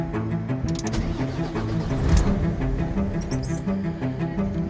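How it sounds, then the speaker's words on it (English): A Volvo FH truck with a fault that lets it crank and start but not idle: the engine churns and catches for about a second with a louder burst midway, set among clatter and rattles. "Well, the engine started, but only for 1 second."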